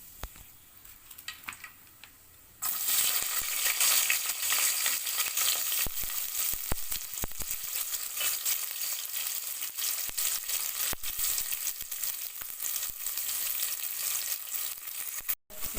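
Chopped onions hit hot oil with cinnamon and cloves for chicken biryani, bursting into a loud, close, continuous sizzle after a quieter start, with occasional stirring clatter and no talking.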